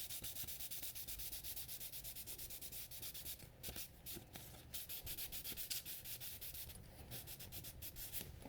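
A Moritaka gyuto blade is sanded during thinning, a steady, close, rhythmic scrubbing rasp with quick back-and-forth strokes that continue without pause and with no talk.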